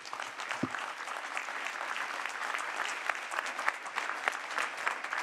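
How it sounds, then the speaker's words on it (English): An audience at a hydrogen energy ministerial meeting applauds the panelists, steady dense clapping from a large indoor crowd sustained throughout at moderate volume with no speech over it. "please give another round of applause to Dr. Bohart and all the panelists"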